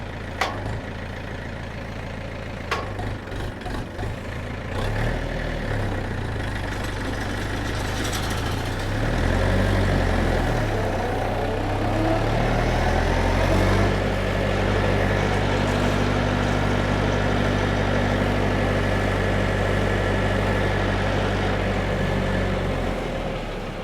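A DTZ 5404 tractor running a disc mower at 540 rpm, its engine first revving unevenly, then settling into a steady, loud, low drone with a constant mechanical hum, close by and continuous.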